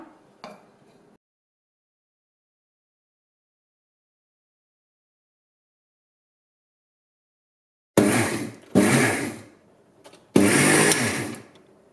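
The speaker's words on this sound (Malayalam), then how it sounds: "ഇപ്പൊ മിക്സിയിലിട്ടൊന്ന് ചുറ്റിച്ചെടുക്കാം ഈ തേങ്ങ" A mixer grinder whirs through grated coconut in three loud, short pulsed bursts that come after a long silence, with no talking.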